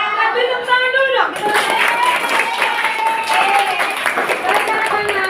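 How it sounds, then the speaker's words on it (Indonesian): Schoolchildren clapping hands in an Indonesian classroom, a dense burst of rhythmic group clapping mixed with lively children's voices and crowd noise, loud and close throughout. "Tapi tepuk tangan dulu dong."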